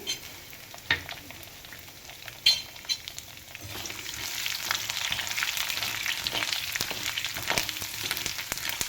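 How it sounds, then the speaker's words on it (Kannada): Garlic dropped into hot oil for a tempering, for spicy Uttara Kannada-style poha, crackles faintly at first, then bursts into a steady, close sizzle with a few stirring clinks, no voices. "ನಂತರ ಬೆಳ್ಳುಳ್ಳಿ ಹಾಕೊಳ್ಳಿ"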